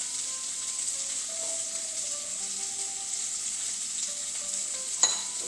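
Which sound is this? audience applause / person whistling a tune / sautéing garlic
sautéing garlic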